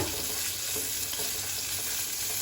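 Long-sliced onions softening in hot oil in a pan give a soft, steady frying hiss with faint crackles, quiet and continuous, no talking.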